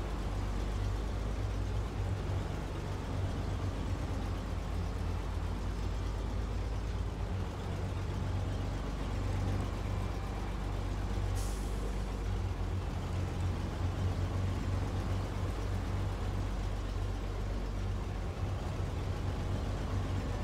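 A heavy truck engine drones steadily through deep snow in SnowRunner, a constant low rumble that holds for the whole stretch with no talk.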